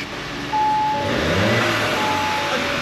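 A car engine revs up hard and holds a high roar with a faint turbo whistle, loud and close.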